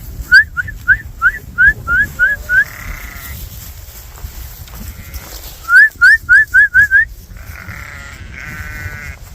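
Two bursts of a shepherd's rapid rising whistles, each followed at once by loud bleating from a flock of sheep, over a steady outdoor rumble.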